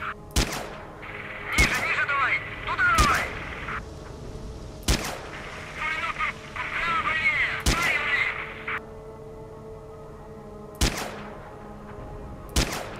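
Gunshots in a Zone shooter video game, sharp loud single reports spaced a second or more apart over a droning background, with brief electronic chirping bursts between some shots.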